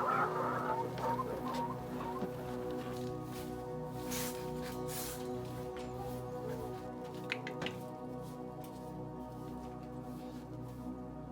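A flock of meat birds and hens clucks in a Caribbean yard in the morning, a dense, continuous chorus of overlapping clucks and chatter with no pauses.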